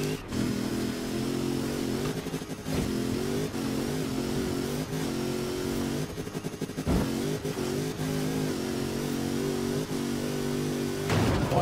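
A Mercedes G63 AMG 6x6 in Forza Horizon 4 revs its engine in a steady mid-pitched drone with harmonic layers, briefly dropping off and surging again several times, loud and up close.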